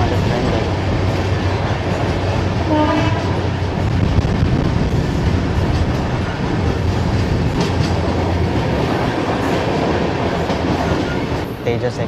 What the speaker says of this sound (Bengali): তার একটা ছোট্ট স্টেশন ক্রস করছে আমাদের ট্রেন